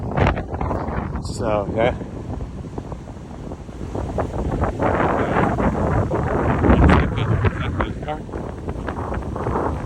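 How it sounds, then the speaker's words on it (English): Strong wind at the beach buffets the microphone in a constant roaring rush, with surf in the background and a person talking briefly over it. "It's a windy day at the beach today"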